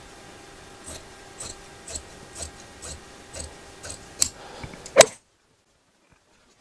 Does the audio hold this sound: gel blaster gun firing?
no